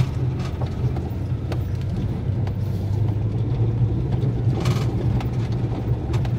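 Car driving smoothly along a paved tarmac road through a quiet rural area toward Devkhol temple, heard as a steady low engine and road rumble from inside the vehicle with no talk.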